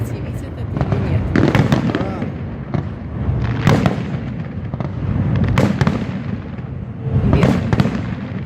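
Sharp fireworks detonations at a 2017 World of Tanks salute show come every second or so, each a punchy boom with a crackling tail, and voices talk between the blasts.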